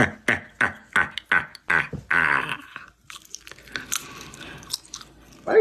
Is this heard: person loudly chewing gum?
yes